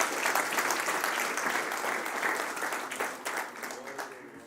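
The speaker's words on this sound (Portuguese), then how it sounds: "dê um aplauso forte para o Senhor Jesus." A church congregation applauds loudly, a dense roar of clapping that gradually thins out over a few seconds.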